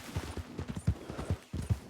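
Horse hooves galloping in Red Dead Redemption 2, a quick, even run of clopping beats in close rhythm, up front and fairly loud.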